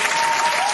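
A brief burst of crowd applause, loud and uniform like a canned sound effect, with no voices over it.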